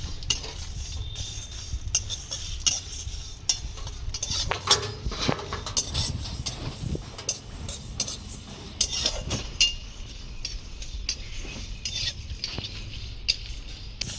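Whole spices, fennel seed and panch phoron among them, dry-roasted in a dry wok for a raw mango pickle, with a steady run of close metallic scraping and clinking from a spoon stirring the seeds, no talking.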